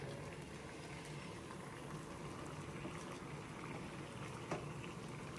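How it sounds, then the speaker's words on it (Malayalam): Water for tea comes to a boil in a clay pot being seasoned, giving a steady bubbling and hissing wash, moderately close and even throughout, with no voices. "ഇവിടെ ചായക്ക് വെള്ളം തിളച്ചു."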